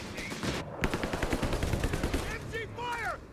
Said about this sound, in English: MG fire! Taking MG fire!